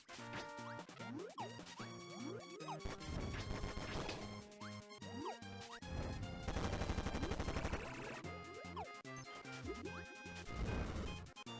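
Kirby Squeak Squad gameplay with the fire ability breaking an object open, heard as repeated crashing, smashing bursts and rapid blasting over continuous loud game music throughout.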